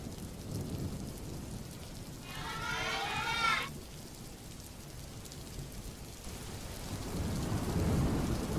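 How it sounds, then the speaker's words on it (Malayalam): Heavy rain falls steadily in Wayanad, a low continuous roar with a brief rumble of thunder in the middle, moderate and distant under the downpour. "എന്തൊരു മഴയല്ലേ?"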